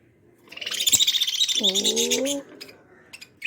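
A dense burst of high, rapid chirping from small birds, joined midway by a lower cooing call, then fading to scattered faint peeps.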